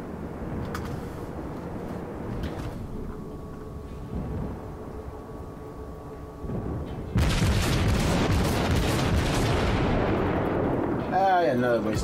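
An artillery volley thunders in the naval game War Games, starting as a loud booming burst that rumbles on for several seconds, heard after a stretch of quieter background sound and a faint steady tone.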